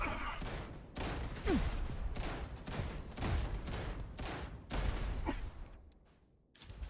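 Enemy grenade launcher fire in the Starfield video game: repeated loud bursts of explosive gunfire, about eight sharp blasts at a steady rhythm over seven seconds, with a brief quieter lull near the end.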